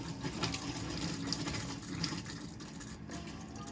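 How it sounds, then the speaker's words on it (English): Hot water runs steadily from a motorhome tap, a continuous close rushing splash that keeps an even level throughout with no voices. "just ensure that the hot tap has been turned on and that the water is coming out like it should normally be"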